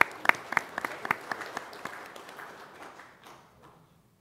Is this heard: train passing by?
no